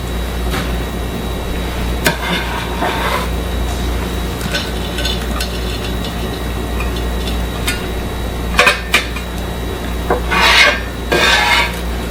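Diced onion tumbles into a crock pot already holding six soft-cooked potatoes for loaded potato soup, heard as scattered clinks and scrapes of a utensil against the pot, with a busier clatter of pieces falling near the end.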